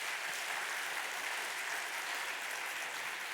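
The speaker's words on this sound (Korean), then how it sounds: "여러분 귀하게 생각하는 만큼 박수를 칠 텐데 제가 한번 볼 거예요" Church congregation applauding during a Sunday worship service, a steady, dense wash of clapping from many hands that fills the room at a moderate, even level without pauses.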